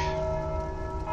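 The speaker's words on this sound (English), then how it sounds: "So he's going to ring the bell endlessly!" A church bell ringing in the video game Dark Souls, Undead Crypt area, a sustained metallic toll with long ringing overtones that fills the short moment loudly and steadily.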